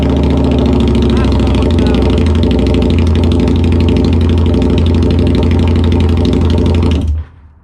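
A Harley-Davidson V-Rod motorcycle, run with a metal engine casing removed, fires up and idles with a loud, deep, steady rumble close by for about seven seconds before abruptly cutting off.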